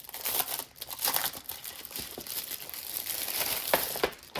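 Crinkling, crackling plastic wrap being peeled and torn off a box of Woomer coloured pencils, close and irregular, with several sharp bursts over a few seconds.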